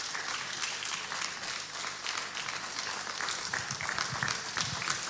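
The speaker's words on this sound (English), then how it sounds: "Can we have a round of applause for him" Steady audience applause at a formal event honoring the President of the Senate, a dense, continuous wash of many hands clapping at moderate distance, fairly even in level throughout with no voices on top.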